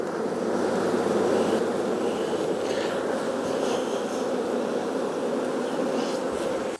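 A dense, steady buzz of many honey bees swarming close around an open hive during a colony inspection, continuous and unbroken with no talking.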